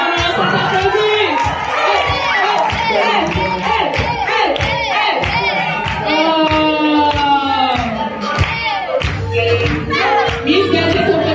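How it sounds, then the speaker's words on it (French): Audience applause at a children's event, a steady dense crowd clapping with cheers and shouts running throughout at close, loud level, mixed with music. "Waouh, ça s'applaudit."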